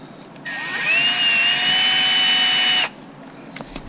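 Cordless power driver tightening a screw during a build of an HB Racing D817V2 RC car: a single high-pitched whine of about two and a half seconds that rises slightly in pitch, close and loud, then stops, with small clicks afterward.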